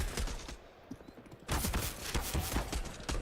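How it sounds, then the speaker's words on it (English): Gunfire in a Counter-Strike match at a Katowice 2022 grand final, sharp rapid shot bursts with a quieter lull, then a louder volley of repeated cracks. "Good shooting from Twist"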